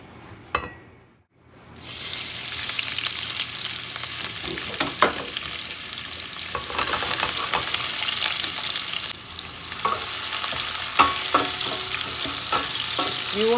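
Beef stir-frying in oil in a pot, with a brief quiet gap before a loud, continuous sizzle that carries on with intermittent scrapes and clinks of a utensil, close and steady.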